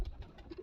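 Pigeons coo softly in short, faint, low murmurs, a few brief pulses close together against a quiet background.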